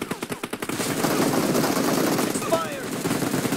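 Rapid bursts of automatic gunfire from a PUBG Mobile match, evenly spaced shots at the start that merge into sustained dense firing, loud and close, with players talking over it.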